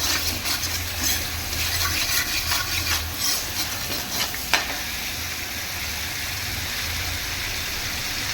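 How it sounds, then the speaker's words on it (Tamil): Paneer fries briefly in a hot pan, giving a loud, steady sizzle with a few light stirring clinks and no talking. "பன்னீர் வந்து ரொம்ப ஹீட் ஆகக்கூடாது கரைஞ்சிரும் அதனால் போட்டு கொஞ்சம் நேரத்துலேயே எடுக்கணும்"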